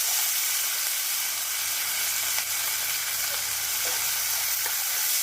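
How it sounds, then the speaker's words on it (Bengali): Green peas fry lightly in hot oil with onions in a kadai. A close, even hiss of sizzling carries a few faint clicks of stirring, and no one speaks. "এখানে কড়াইশুঁটিগুলো আমি এখনই দিয়ে দেবো।"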